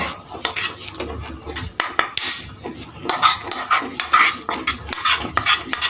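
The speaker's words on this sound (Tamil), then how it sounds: "நம்ம கரண்டியில் நல்லா கலந்தோன்னு வைங்களேன் அந்த கட்டிலாம் போயிடும்" Ladle scraping and clinking against a metal pan while cashew and sugar syrup mixture is stirred, a run of irregular metallic taps and scrapes close by.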